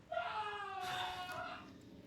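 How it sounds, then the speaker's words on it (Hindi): A distressed human scream rises from somewhere below in Resident Evil 4: a single drawn-out, wailing cry that is moderately loud and slightly distant, with faint game ambience around it. "नीचे से चिल्लाने की आवाज आई है।"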